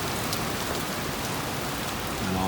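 Steady rain falling during a storm on the Gold Coast, a dense, even hiss of drops on surfaces lasting the few seconds without pause, close and uninterrupted, with no talk.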